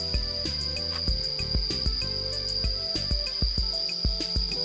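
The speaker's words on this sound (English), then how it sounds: "Plenty of crickets." Crickets chirp steadily in a green jungle park near a waterfall, a dense, continuous high trill with rhythmic pulsing, joined by scattered clicks and faint calls from other insects or birds, with no talk.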